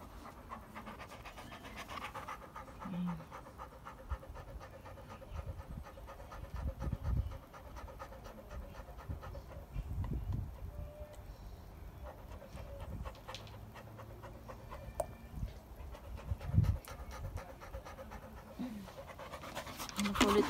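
A dog pants quickly and rhythmically nearby at low volume, the breathy huffs continuing throughout while people talk over it in the background.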